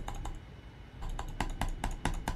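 Clicks from a computer keyboard and mouse come in a quick, irregular run of sharp taps, close and fairly quiet, with no voices over them.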